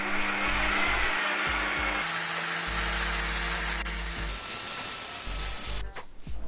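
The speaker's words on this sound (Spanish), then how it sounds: "Para esto hay que usar un disco de desbastar hierro y el eje lo voy a enroscar" Harsh, sustained whine of a power drill at low speed spinning an iron grinding disc, shifting in pitch a few times before stopping near the end.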